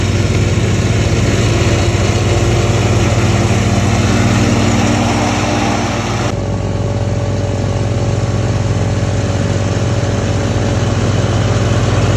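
Loud, close lawn mower engine droning steadily while cutting long grass with seed heads in the mountains, a constant hum with a slight shift in tone midway and no talk.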